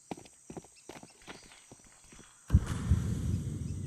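Footsteps in a Counter-Strike match on the Ancient map during a pro league 1v4, a run of light rhythmic steps for about two and a half seconds, then louder scuffling movement and gunfire-like noise.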